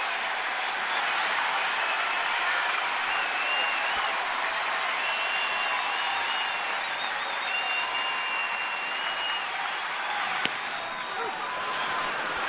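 A home crowd at Nationals Park cheers for a Phillies versus Nationals baseball game in October 2012, a sustained, even roar of cheering and clapping that fills the air while a commentator talks over it.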